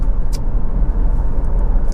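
A 2008 Honda CR-V 2.0 i-VTEC EX cruises at speed, a steady low engine and road drone heard from inside the cabin, with a couple of brief faint higher ticks above the hum.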